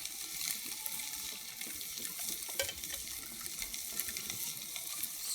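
Fish cooking in margarine in a pan on an outdoor grill crackles and sizzles quietly, a faint, continuous hiss dotted with small pops.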